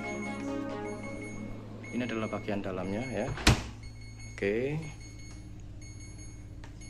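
Midea side-by-side refrigerator door-open alarm gives a few short electronic beeps while someone talks over them, with a sharp knock from the door midway.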